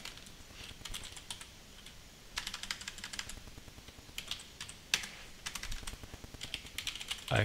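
Quiet, close typing on a computer keyboard while a network command is entered: bursts of rapid key clicks separated by short pauses, with a few sharper single taps.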